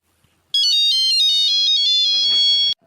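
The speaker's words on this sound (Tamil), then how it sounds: "ஃபோன் அடிக்கலடி எடுத்து பேச வேண்டியதுனே பார்த்துக்கிட்டே இருப்பா" A mobile phone ringtone plays a loud, close electronic melody of bright repeating notes for about two seconds, then cuts off abruptly.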